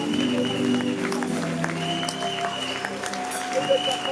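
A church congregation applauds and cheers during a service, the clapping a dense, continuous patter with a voice occasionally rising over it.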